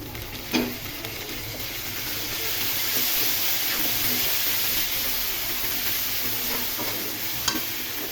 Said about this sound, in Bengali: এখন আদা রসুন বাটা দিয়ে ভেজে নিব